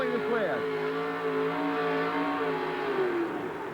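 The Yellow Fever monster truck backs in to hook up the sled at a 1988 USHRA event in Houston, its engine revving with rising and falling whine, under an announcer's steady commentary.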